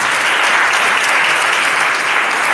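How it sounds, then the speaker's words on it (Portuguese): A congregation at an evening family worship service claps loudly and continuously, a thick, close roar of applause holding at full strength throughout. "Aplauda bem forte ao nosso Deus,"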